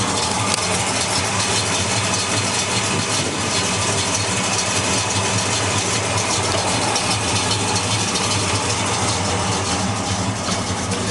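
A 1968 Pontiac GTO convertible with a freshly built engine, mild cam and Flowmaster exhaust idling, a steady deep rumbling burble with slight rattle, close and loud, with no talk over it.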